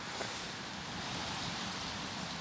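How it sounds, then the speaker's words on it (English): Steady rain falls during a wet UK spring around a campervan near a flooded field, a continuous soft hiss of drops at moderate distance with no voices. "What is going on with all this rain?"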